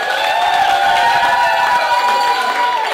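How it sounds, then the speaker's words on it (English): A crowd inside MapleView Mall in Burlington applauds and cheers continuously for costumed participants, a dense, steady wash of clapping and shouting that holds loud throughout. "give them a round of applause"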